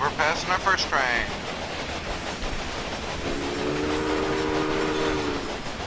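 A train passes in the railway simulation game Railway Empire, a steady rumbling wash with a sustained steam-whistle-like tone, preceded by brief voices at the start.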